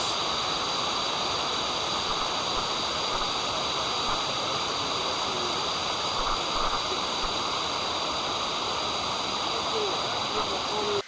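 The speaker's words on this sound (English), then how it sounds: "in the rainy season, they're smaller, trickling gently down the rocks." Constant rushing and splashing of small waterfalls over rocks in Khao Sok National Park, Thailand, a steady broadband wash with no pauses, fairly near.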